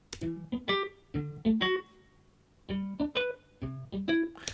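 Muted and sustained electric guitar parts from Logic instruments play a riff together, bright plucked notes in quick clustered phrases with a short pause midway, upfront and without any voice.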